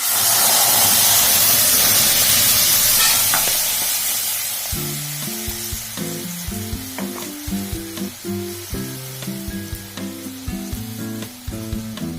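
Tomatoes are tipped into a hot pan of tempered spices for a quick tomato chutney, and a loud, steady frying sizzle starts at once. It gradually settles as stirring clinks and scrapes come through, close up with no talk.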